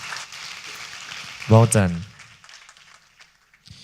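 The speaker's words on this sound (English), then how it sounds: "A big round of applause in P-Core please" Audience applause crackles steadily through a startup pitch event, with a short spoken voice breaking in over the clapping midway before it thins out.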